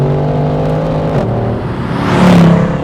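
A 6.2-litre naturally aspirated V8 in a Mercedes C63 AMG Black Series revs loudly with a deep rumbling tone, pitch dipping and then surging higher toward the end, no voices.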